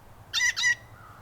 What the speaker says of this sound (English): The mother bird squeals.